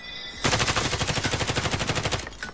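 Close automatic-weapon burst in Warzone, a rapid evenly spaced stream of shots lasting about two seconds after a brief quiet start, then cutting off.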